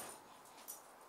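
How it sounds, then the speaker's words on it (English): Dogs whimpering in a room during a model train unboxing: a brief, soft, high whine with a faint yip near the end, quiet and close. "Do excuse the dogs."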